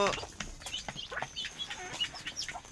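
Backyard chickens cluck and chirp in short irregular bursts, close by and moderately loud, with faint rustling between calls.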